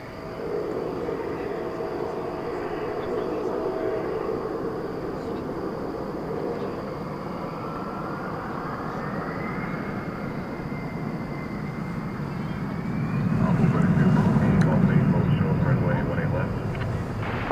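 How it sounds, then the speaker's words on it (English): Skyline flight 4970 taking off at night at DFW Airport, a steady, distant jet engine roar that holds for several seconds and then swells louder and closer toward the end, with radio-style talk faintly present. "Takeoff, Skyline 4970."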